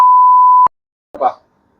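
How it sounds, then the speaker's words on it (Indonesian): A censor beep in an Indonesian podcast: one steady, loud electronic tone lasting well over half a second and cutting off sharply, followed after a pause by a short burst of a voice. "Ada beep, ada suara beep."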